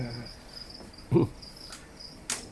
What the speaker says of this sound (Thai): ที่เปิดเสียงจิ้งหรีดไว้